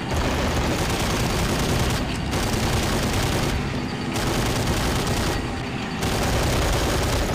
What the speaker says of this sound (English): I'm just mopping up the infantry here now with the MG42